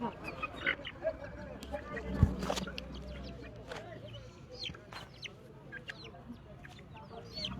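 Chickens cluck and squawk in a busy poultry market, their calls scattered throughout amid steady crowd noise and people talking in the background.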